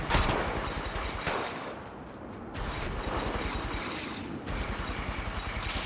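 Rapid bursts of gunfire in Apex Legends Mobile crackle in dense volleys, loud and continuous, with a brief lull in the middle.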